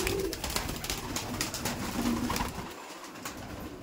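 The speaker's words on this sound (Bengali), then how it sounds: "সব ম্যাক্সিমাম লালদম পায়রা আছে।" Laldom pigeons in a loft in South 24 Parganas coo softly a couple of times beneath a constant rustle of wings and background noise.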